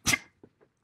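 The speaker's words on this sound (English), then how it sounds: "Made him sneeze." A single sharp dog sneeze up close, followed by two faint snuffly sounds.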